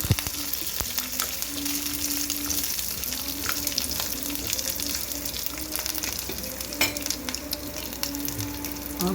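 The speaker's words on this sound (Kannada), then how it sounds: "ಒಂಚೂರು ಕರಿಬೇವು ಚಟಾಪಟ ಅಂದ ತಕ್ಷಣವೇ" Curry leaves crackle and sizzle in hot oil in a pan, a steady close frying hiss with scattered pops throughout and no talking.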